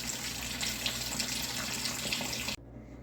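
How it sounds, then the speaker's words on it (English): Water pours steadily from a tap into a container where a bottle with a metallic paper label is set to soak; a loud, close, continuous gush that cuts off abruptly near the end. "I'll put it in here in just enough water to cover the bottle"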